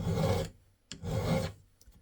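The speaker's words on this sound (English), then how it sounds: "I don't mind filing" A hand file rasps across the metal of an Enfield rifle receiver in two long, steady strokes with a short pause between them, close and clear.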